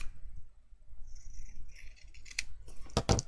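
Scissors trim a craft piece for a Christmas cottage lantern in half, giving a few quiet snips that end in a sharp, close double cut.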